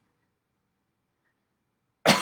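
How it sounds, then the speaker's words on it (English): A single close, loud cough bursts out abruptly after near silence, cut off at the end. "Excuse me for coughing."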